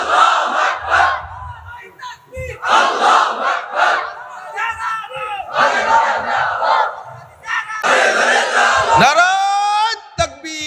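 A religious gathering's crowd roars a takbir chant in repeated loud bursts, call and response led by a preacher at a Bangla sermon, massed voices swelling and dropping between shouts, ending in a drawn-out rising cry.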